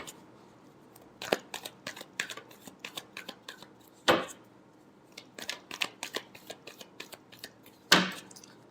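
Tarot cards being shuffled by hand, a series of quick papery riffles and flicks in an irregular rhythm, close and quiet with a few sharper snaps.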